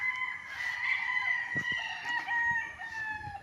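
Rooster on a game farm in Pagsanjan, Laguna, crowing steadily and loudly nearby, with faint clucks beneath and no voices.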